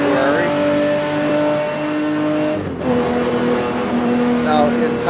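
A modded car engine revs high, holding a strained, sustained whine that briefly drops off, then climbs again while someone talks over it.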